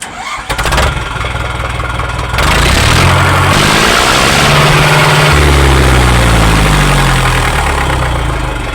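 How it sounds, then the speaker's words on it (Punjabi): A modified tractor with extra-wide tyres fires up and roars loudly through its silencer, the deep engine note holding steady and close after a short starting burst. "ਇਹਦੀ ਆਵਾਜ਼ ਬਹੁਤ ਸੋਹਣੀ ਹੈ ਟਰੈਕਟਰ ਦੇ ਸਲੈਂਸਰ ਦੀ"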